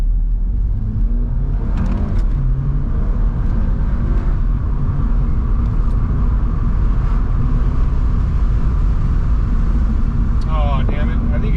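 A turbocharged Volkswagen engine revs and accelerates with a steady low rumble, pitch rising and dropping as gears change, with a voice talking over it.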